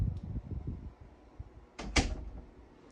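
A door on self-closing spring hinges swings shut, ending in a couple of sharp knocks as it meets the frame. Soft handling noises come first and a quiet room tone follows.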